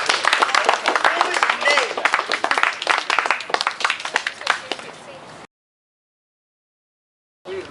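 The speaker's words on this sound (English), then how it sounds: "Round of applause." An audience at a theater performance claps in a dense round of applause for about five seconds before it cuts to silence, followed by a brief return of sound at the end.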